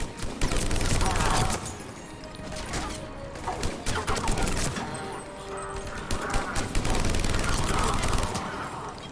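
Gunfire in a Mass Effect Legendary Edition cave battle, with repeated sharp shots and bursts rising and falling at close range, mixed with other combat noise while a voice talks over it.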